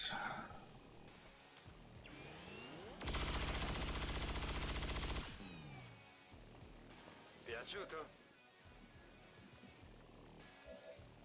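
Sustained automatic gunfire in the turn-based tactics game XCOM Long War of the Chosen, a loud two-second burst standing out among quieter game sounds and a player talking.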